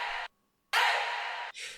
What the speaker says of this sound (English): in the drop, I add this shout effect from Ultrasonic.